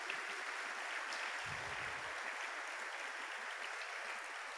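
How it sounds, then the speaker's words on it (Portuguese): A church congregation claps together in a steady, even wash of applause that stays at one level throughout, heard from some distance and fairly soft. "Vamos aplaudir a Deus por esse conselho"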